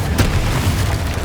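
A Confringo blasting spell detonates in Hogwarts Legacy, a loud, close, low booming explosion with a sharp crack at its onset and a sustained rumbling tail.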